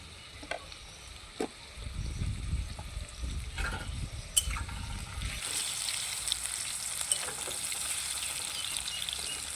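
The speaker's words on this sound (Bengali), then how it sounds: "আলুগুলোকে লাল লাল করে ভেজে নিয়েছি" Potatoes fry in hot oil in a pan, with a steady broadband sizzle that starts after some low bumping and scraping, then holds on continuously with occasional clicks of a utensil.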